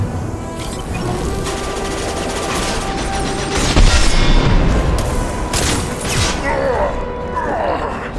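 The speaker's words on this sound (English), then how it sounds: "A misplaced shot could cause a significant explosion." Gunfire and a heavy explosion of unstable crates in the Mass Effect video game ring out loudly amid mechanical clanks and rattling debris, with a deeper boom near the middle.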